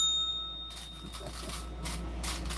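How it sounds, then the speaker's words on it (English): A bell in a lure-head pouring workshop gives a single bright ding that rings steadily and then cuts off. Clattering shop noise follows, and no one speaks over it. "Could somebody ring a bell?"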